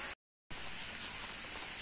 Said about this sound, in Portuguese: tá chovendo. Graças a Deus tá uma chuvinha calma